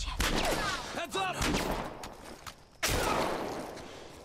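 Bursts of gunfire in The Last of Us Part I, a close, loud rapid volley at the start followed by scattered shots fading out, with brief voices calling out in between.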